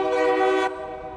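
A train horn sounding nearby beside a road once used for Tesla Cybertruck testing, a steady chord-like blare that cuts off abruptly partway through, leaving a fainter lingering tone.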